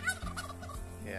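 Turkeys gobble in a short, rapid burst of rattling calls close by on a farm, loud and unaccompanied by talk.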